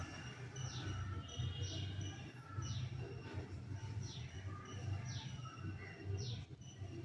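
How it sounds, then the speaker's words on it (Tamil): Early-morning birds, apparently pigeons or doves among them, giving repeated short chirps and calls over a low, steady rumbling background, moderately faint and somewhat distant. "இவ்வளோ ஆனந்தமாக காலங்கத்தால் பறவைகள் எப்படி சுற்றி வருதுன்னு பாருங்க"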